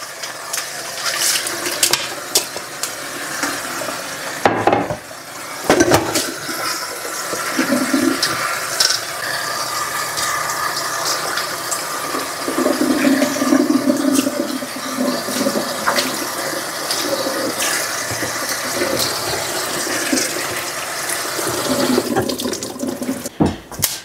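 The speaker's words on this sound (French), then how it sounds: "Je vais d'abord rincer cette assiette parce que c'est dans ça que je vais assaisonner la viande hachée." Tap water runs steadily into a sink as a plate is rinsed in a home kitchen, a continuous close splashing rush with small shifts and a couple of brief interruptions as the plate moves under the stream.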